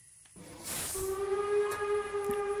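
A steam train whistle from the Fran Bow video game sounds one long, steady, clear tone with strong harmonics and a hissing edge, sustained close and loud after a short quiet start.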